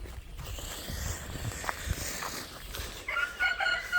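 A backyard chicken clucks near the microphone over steady outdoor background noise, making a few short, low calls in quick succession.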